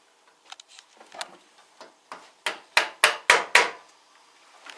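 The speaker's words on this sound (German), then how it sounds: "So ein dezenter Hammerschlag kann da nicht schaden." A hammer taps on a wheel of a Rotwerk lathe during drive belt replacement, a few light knocks building into a run of five or six sharper, louder strikes, close by with no talk.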